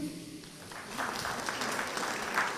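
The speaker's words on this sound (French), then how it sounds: "Bon, eh bien on peut les applaudir." Audience applause at an agricultural education seminar in France, a soft, steady patter of clapping from a room of listeners, fairly distant and continuous for a couple of seconds.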